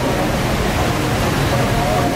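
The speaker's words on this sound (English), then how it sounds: "And now I'm about to get tight closer to the waterfall." Tegenungan Waterfall in Ubud, Bali roars as a steady, loud broadband rush of falling water, continuous and close throughout with no pauses.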